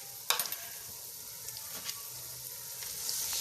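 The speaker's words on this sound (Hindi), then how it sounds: "4 से 5 सेकंड के लिए हम अदरक लहसुन को फ्राई कर लेंगे।" Ginger garlic paste frying in a pan after onions have been browned, giving a faint, steady sizzle with a few sharp crackles and spits near the start.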